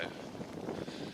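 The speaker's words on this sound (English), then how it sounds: "it's just fucking constant and it's getting worse and I hate wind" Wind buffets an outdoor camera microphone in a steady, rough rumble that fills the whole moment without pause.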